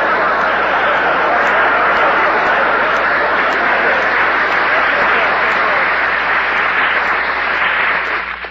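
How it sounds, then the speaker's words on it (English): A studio audience at a 1946 New Year's radio comedy broadcast with Red Skelton bursts into sustained, loud applause that keeps a dense steady clapping texture for several seconds before starting to fade. "there's two ways to take that applause"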